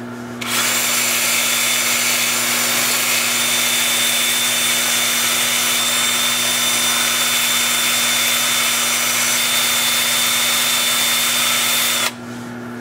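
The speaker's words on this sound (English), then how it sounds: "You just saw me doing some spot sanding, trying to get out some of the tool marks" A power sander with a grit disc spot-sanding tool marks on turned manzanita wood whines steadily for about twelve seconds, a loud, constant grinding hum that starts and stops abruptly, with no talking.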